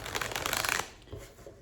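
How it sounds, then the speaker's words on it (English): A deck of tarot cards riffled and shuffled close by, a dense burst of papery flutter for nearly a second, then quieter handling and soft card taps as the riffle ends. "This card just dropped as I cut the deck to shuffle."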